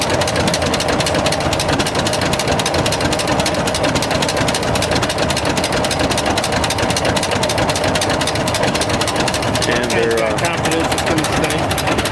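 Two-cylinder John Deere tractor engine running steadily at a vintage tractor show, a loud, continuous rhythmic chugging thrum close by with no pauses.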